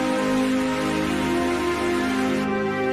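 Heavy cartoon rain, a dense, even hiss of downpour running continuously under a sustained musical drone, with no talking.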